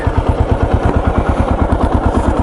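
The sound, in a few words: Kawasaki KLR 650 motorcycle engine running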